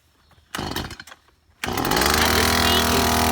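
A chainsaw is started for the first time: a short sputtering pull is followed by the engine catching into a loud, continuous, high-revving buzz that runs close by to the end, with no voices.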